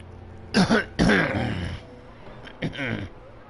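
A man in the game Vampyr coughs twice and clears his throat, loud and close, with a short pause before a final harsher throat clear.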